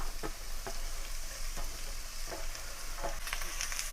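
Sliced onion frying in a pan for a Kerala bitter gourd stir-fry, a constant soft sizzle broken by regular spoon scrapes and clinks about every second.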